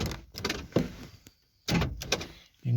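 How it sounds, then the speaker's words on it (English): A car door being locked from inside, heard as a few close mechanical clunks and thumps with quiet gaps between them, no talk. "First thing we'll do is we'll lock the door."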